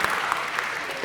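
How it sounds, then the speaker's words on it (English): A round of applause at a city council meeting, steady moderate clapping from the chamber audience with a few sharper individual claps standing out, continuous throughout. "Let's give them another round of applause."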